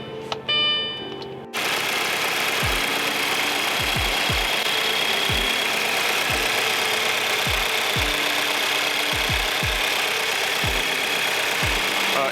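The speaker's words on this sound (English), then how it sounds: "it's a very smooth running vehicle right now" A 2.0T Audi A4 B7 engine idles steadily with the check engine light on, giving an even, broadband hum close to the mic with faint irregular ticks. A brief voice is heard at the start.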